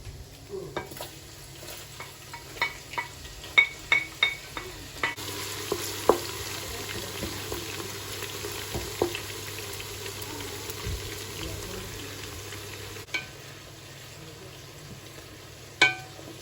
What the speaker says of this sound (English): I'm going to start cooking the jollof rice.